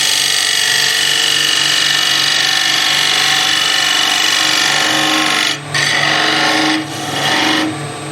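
A skew chisel takes a steady cut on spinning wood on a lathe, a loud continuous rasping hiss over the motor's hum, breaking briefly twice near the end as the tool lifts.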